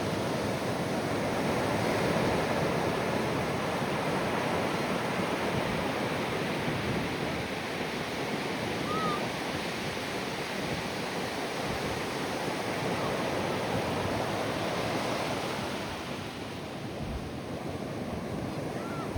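Low-tide ocean waves at a beach give a constant, broad wash of surf at moderate distance, steady throughout with slight wind noise and no voices.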